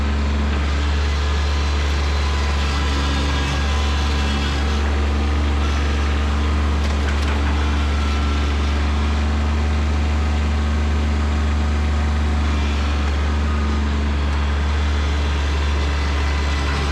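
A Kubota B2601 compact tractor engine runs steadily with a County Line 5-foot box blade while grading a yard, a loud continuous low hum that holds throughout.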